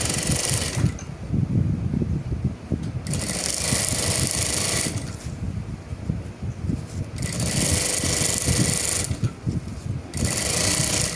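A sewing machine backstitching a seam on a fabric toiletry bag, fast close mechanical stitching in bursts that start and stop several times, with short pauses between runs.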